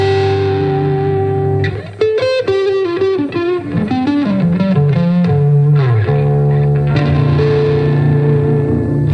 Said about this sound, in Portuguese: vou colocar aqui uma distorção para dar o exemplo